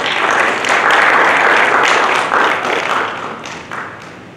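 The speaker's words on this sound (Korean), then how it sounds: "큰 박수로 부탁드립니다." Loud, close applause from a forum audience in Korea fills the room, a thick, sustained burst of many hands clapping that gradually thins and tapers off toward the end.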